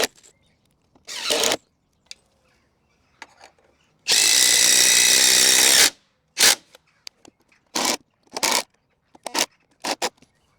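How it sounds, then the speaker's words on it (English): A mains-powered drill bores a hole into concrete in one loud, close, sustained burst of almost two seconds, surrounded by short scrapes and clatters of handling. "the mains drill, for a lot of holes in concrete, it just seems to perform a lot better"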